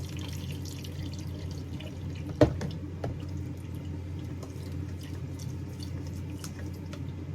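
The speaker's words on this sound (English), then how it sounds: "So just gonna strain this and then do it again." Wrewre melon seed milk is strained through a splatter guard in a kitchen, a soft steady trickle of liquid under a low hum, with one brief knock partway through.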